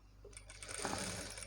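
A sewing machine stitching blouse fabric runs as a steady, close mechanical whir across the short stretch, with no talking.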